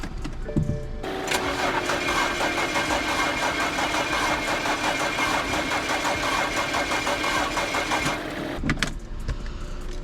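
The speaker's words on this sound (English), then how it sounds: "and then I'm gonna start her up." A BMW 335i fitted with a big turbo cranks briefly and fires up, then runs at a steady, close idle for several seconds before the sound cuts off. No one speaks.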